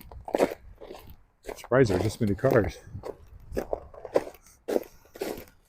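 Footsteps crunch over snow on a city walk in Regina in late December, with soft irregular steps mixed under someone talking.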